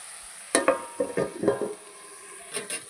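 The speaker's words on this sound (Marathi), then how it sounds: "चिंच गुळ हळद हिंग मीठ चटणी सगळं काही हलवून घ्यायचं" Bitter gourd curry with tamarind and jaggery is stirred in a pan, a spoon scraping and knocking in a quick run of distinct strokes with a faint sizzle beneath, then a pause before two more scrapes near the end.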